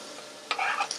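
Garlic hits a hot pan while cooking a Japanese katsu curry sauce, giving a sudden close sizzle that swells for about half a second, then settles into a lighter crackle with a faint stir.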